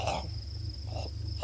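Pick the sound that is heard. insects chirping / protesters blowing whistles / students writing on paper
insects chirping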